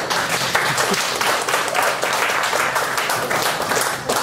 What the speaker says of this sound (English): let's clap for yourselves